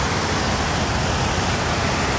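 Steady water rushing over a river waterfall, a constant broadband roar filling the short span with no breaks or voices.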